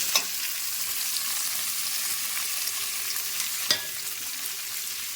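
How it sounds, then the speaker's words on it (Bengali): Chopped ginger, onion, garlic, capsicum and tomato fry together in hot oil, a dense, even, close sizzle with a couple of brief stirring clicks, no voices. "এগুলো সব আমি একসঙ্গেই তেলের ভিতরে দিয়ে দেব"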